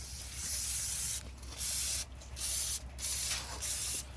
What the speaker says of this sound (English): take some brake parts cleaner and just spray the area